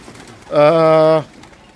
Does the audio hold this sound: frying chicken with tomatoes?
no